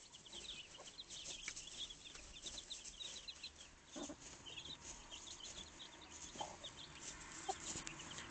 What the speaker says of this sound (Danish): Spotter jeg en lille hanekylling.